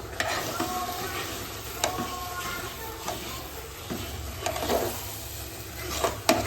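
Thick puran, a sweet lentil filling with crushed cardamom, thickens in a pan while being stirred, giving soft sizzling with repeated scraping strokes of the spoon at an irregular pace, fairly quiet and close.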